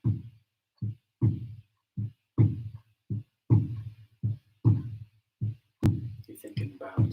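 Hand drum beaten in a slow, steady, heartbeat-like rhythm, each deep thump close and distinct with brief silences between strikes.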